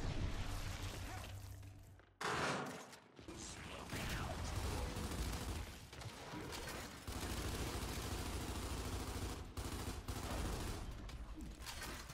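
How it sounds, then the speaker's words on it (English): Sustained gunfire in a ranked Control match of Gears 5, steady rattling bursts with mechanical clicks, broken by a brief drop near the start and short gaps, with little talking. "Let me shoot my gun!"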